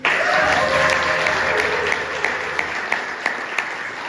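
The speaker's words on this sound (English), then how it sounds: "Insert clap." Crowd applause at a Pride Niagara event thanking sponsors, loud, full clapping at first that thins into a few distinct, spaced claps toward the end.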